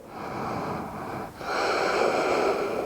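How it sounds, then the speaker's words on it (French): A long, steady breath during a yoga pose in a vinyasa flow, airy and close, with a brief dip before a fuller, louder continuation; no talking. "On prend encore une respiration ici."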